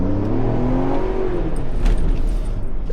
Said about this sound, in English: Brake launch it, yeah, I'm gonna- gas and brake.